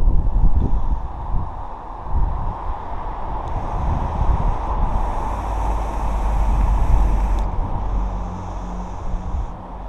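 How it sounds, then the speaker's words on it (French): Outdoor wind at about one degree Celsius during a car oil change, a loud steady rush with low microphone buffeting, while faint high tones come and go in the background. "Avec du vent. Enfin, je pense que vous l'entendez le vent."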